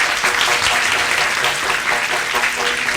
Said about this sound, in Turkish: Sevgili çocuklar şöyle bir kocaman bir alkış daha.